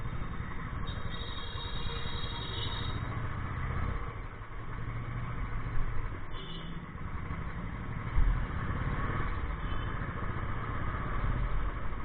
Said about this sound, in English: I ride classic 350 2015 model and I take this shortcut to take the exit from Mansarovar